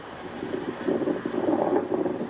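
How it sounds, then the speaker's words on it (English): Gusts of wind buffet the microphone outdoors in a dusty farming area of Dominica, making a low, rumbling roar that swells and eases, with no voices. "it's windy around here and dusty."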